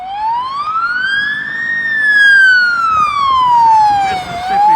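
A Charleston Police Department patrol car siren wails, one long loud rising and falling sweep with the start of another, close by under road noise.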